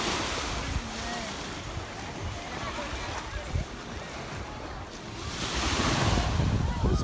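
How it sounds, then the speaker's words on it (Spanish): Caribbean Sea waves roll onto the beach at Bayahibe, La Romana, Dominican Republic, a continuous surf wash with wind buffeting the microphone and a swell building louder toward the end. "This is the Caribbean Sea, family."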